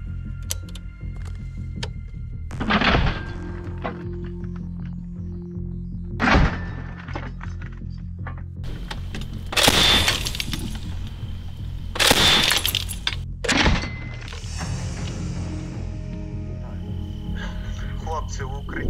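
MK-19 grenade launcher fire with rounds exploding in combat, heard as several sharp, heavy blasts spaced a few seconds apart, each with a rumbling tail, over a continuous low background drone.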